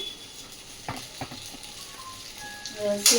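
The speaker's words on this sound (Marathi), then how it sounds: "परतवून घेते आणि झाकण ठेवून शिजायला ठेवते।" Vegetables with salt sauté in a pan, giving a low steady sizzle with a few sharp spoon knocks and scrapes, while a voice talks briefly over it.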